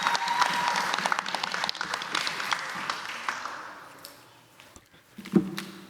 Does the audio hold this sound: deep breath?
no